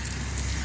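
Rain falls steadily in a village during a downpour, a dense, even hiss of drops on surfaces with no breaks across the short stretch.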